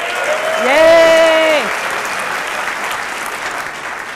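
Audience applause at a community talk, a broad wash of clapping that swells briefly and then fades into a softer sustained patter, with a voice cheering over it near the start.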